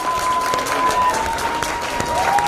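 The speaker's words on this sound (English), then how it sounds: "Can we have one more round of applause for that amazing performance?" Audience applause after a dance performance at an international festival, a steady wash of clapping from a crowd that carries on throughout, with a faint tone running underneath.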